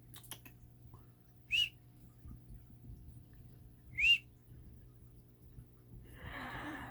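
A person whistles to cats, two short, sharp rising whistles a few seconds apart at close range, over a quiet hum, with a soft rustle at the end.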